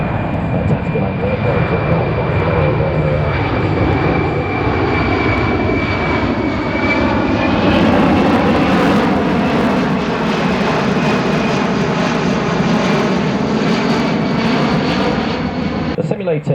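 A C-17 military transport jet flying a tactical display at the Avalon Australian International Airshow, its engines giving a steady, loud, broad roar with a shifting whine throughout. An announcer talks over it the whole time.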